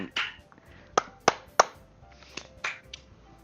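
A few sharp, separate claps ring out at an uneven pace, with softer taps scattered between them; an applause sound effect from the video game Doki Doki Literature Club.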